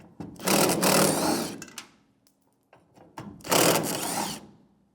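A power tool fitted with a 1/4 inch 7mm socket whirs in two loud bursts with a quiet gap between, removing the fuel tank mounting screws on a 1992-1996 Ford F-150.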